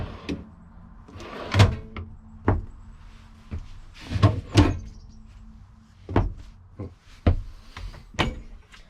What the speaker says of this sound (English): Pull-out drawers, non-slam.